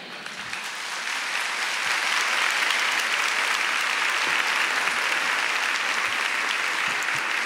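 Strong, sustained applause from a church congregation after a testimony, a dense roar of many clapping hands that swells early and holds steady and loud throughout.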